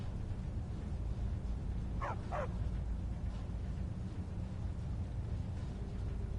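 Dogs in a video game give two quick barks close together, rising out of a steady low background drone with no other distinct sounds.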